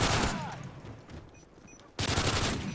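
Rapid automatic gunfire in Call of Duty: Modern Warfare 3 Survival mode on the Bakaara map, a dense loud burst that fades, pauses, then resumes abruptly.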